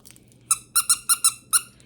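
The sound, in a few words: squeaky dog toy being chewed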